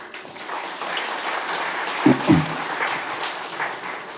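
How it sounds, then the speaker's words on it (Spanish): Audience applause for a panelist at an academic panel on educational leadership, a steady spread of clapping through the whole stretch with a brief low thump partway through. "Un aplauso para Ivette"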